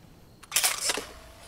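A single camera shutter clicks in a horror video game, a quick, bright mechanical snap with a short rattle, heard alone against quiet background.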